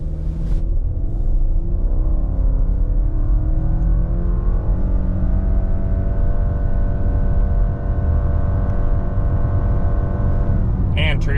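A 2024 Subaru Outback Onyx, non-turbo, accelerates hard on a private road, its engine drone climbing steadily through the gears for about eleven seconds, loud and continuous with rising harmonics.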